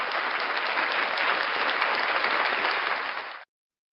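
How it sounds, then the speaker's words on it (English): A live audience claps enthusiastically at a morning show, a loud, dense, even wash of applause held for about three seconds before stopping abruptly. "big round of applause for the amazing"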